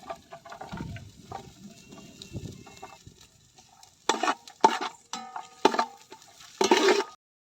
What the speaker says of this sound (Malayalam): എണ്ണ നല്ലപോലെ ചൂടായിട്ടുണ്ട് അതിലേക്ക് നമുക്ക് കുറച്ച് കൊത്തി അരിഞ്ഞ് വെച്ച ഇഞ്ചി ഇട്ട് കൊടുക്കാം